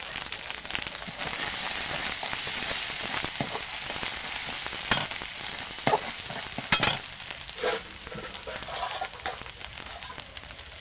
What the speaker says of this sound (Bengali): মশলাটা কষিয়ে নিয়েছি